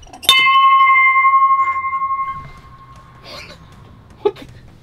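A single bell struck once, ringing out clear and loud with a long sustained tone that decays over about two seconds, followed by faint background noise and a brief click.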